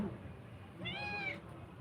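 A cat gives a single short meow, faint and somewhat distant, rising then falling over half a second amid quiet room background.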